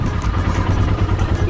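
Motorcycle engine drones on a ride through Mumbai, loud and close with a steady low rumble and wind buffeting, continuous across the brief stretch with no clear speech.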